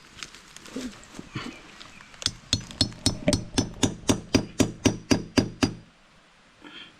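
A hammer taps on hardened feed in a pig pen, striking about fifteen sharp, loud, evenly paced knocks in a fast steady run after a few scattered softer hits.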